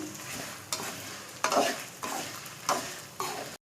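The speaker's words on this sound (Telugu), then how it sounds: "మొత్తం అన్నీ కూడా బాగా ఫ్రై చేసేసుకోవాలి" Curry leaves and spices crackle and sizzle in hot oil close by, broken by several sharp scraping stirs against the pan. No voices.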